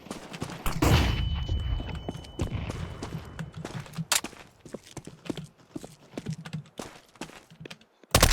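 A flashbang grenade detonates in a tactical shooter video game with a loud burst and high ringing, followed by scattered shots, clicks and thuds from the match.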